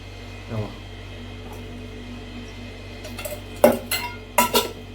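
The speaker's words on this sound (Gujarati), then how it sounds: "લોયામાં વઘારે છે" Dal dhokli is tempered in a metal kitchen pan, with a few scattered clinks and scrapes of utensils against the pan over a low hum, louder clatter arriving toward the end.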